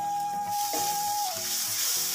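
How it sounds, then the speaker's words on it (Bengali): A spice paste (masala) fries in a pan for a Bengali prawn and drumstick-stem curry, giving a loud, steady, close sizzle and hiss with no talking. "মশলাটা খুব ভালোভাবে কষিয়ে নেব।"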